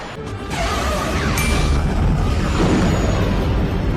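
A deep, rumbling explosion swells and roars loudly, a long sustained blast with crackling debris, cinematic in scale: the Death Star detonation from Star Wars.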